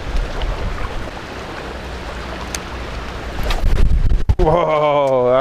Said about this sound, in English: Whoa, that was a big gust of wind.